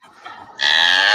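A cow's long, loud moo from a played recording, rising after a brief softer lead-in and holding steady to the end.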